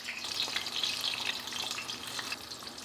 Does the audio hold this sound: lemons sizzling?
yes